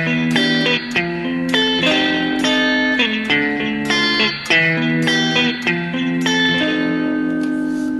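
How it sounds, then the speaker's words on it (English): Electric guitar blending a clean tone with a crunchy, lightly distorted tone, playing a steady run of sustained, ringing chords that change every half second or so, loud and upfront with no talking. "So this creates a more glassy, clean guitar tone that is pretty usable"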